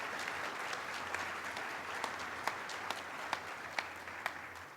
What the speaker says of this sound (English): can we give Amber another round of applause?